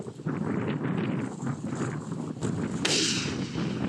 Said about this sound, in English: Tell me when you're gonna shoot. You're shooting, you're ready.